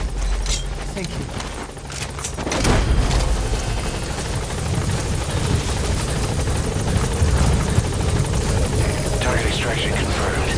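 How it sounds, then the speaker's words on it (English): Support helicopter from the video game Metal Gear Solid V: The Phantom Pain arriving, a loud steady rotor roar building after a brief dip and holding throughout, with game voices and effects layered over it. "Support helicopter has arrived."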